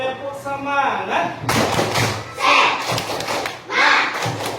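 Children clap together in a rhythmic spirit-clap routine in an Indonesian classroom, sharp thudding bursts of clapping in patterned groups, loud and close, with voices mixed in.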